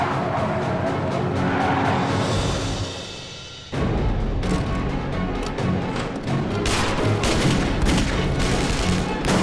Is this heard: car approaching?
yes